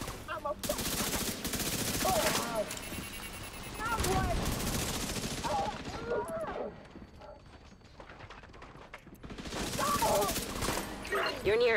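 Video game gunfire as enemies shoot back, with loud bursts of rapid shots rising and falling in several waves over busy game sound.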